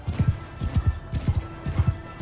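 Horse hooves clip-clop in Mount & Blade 2: Bannerlord, moving at a steady trot in paired beats that repeat in four quick groups, close and fairly loud, with no clear neigh standing out.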